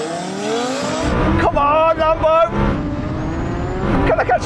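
Twin-turbo Lamborghini Huracan accelerating hard in a drag race against a Kawasaki H2R, a loud engine roar with rising tones and tire noise, partly under excited shouting.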